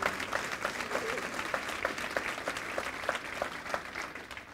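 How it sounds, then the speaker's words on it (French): A church congregation applauding during a worship service with steady rhythmic clapping throughout, moderately distant and fairly even, with no speech over it. "Acclamez Jésus ce matin."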